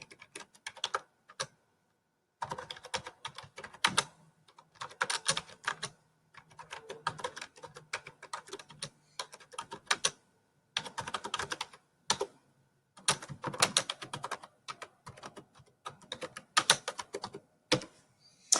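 Text is typed on a computer keyboard in quick bursts of close, crisp key clicks, broken by short pauses, with no talking.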